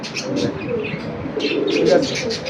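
Pigeons on a rooftop coo repeatedly in soft, overlapping low calls, close by, with a few higher chirps mixed in and no voices.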